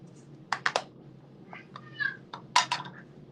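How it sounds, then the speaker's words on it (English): A house cat mewing nearby in short, high calls scattered over a few seconds, mixed with quick tapping and clicking sounds against a quiet background. "Now my kitty's going to be noisy."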